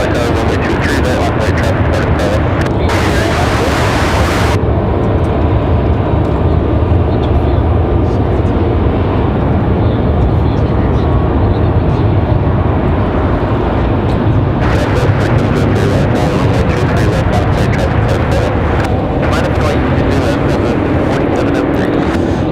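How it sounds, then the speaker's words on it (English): A Southwest airliner takes off from Raleigh-Durham airport with a loud, sustained broadband jet roar running throughout, punctuated by crackly bursts of noise, with speech heard intermittently. "Already cleared for takeoff for Southwest."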